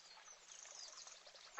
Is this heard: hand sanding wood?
no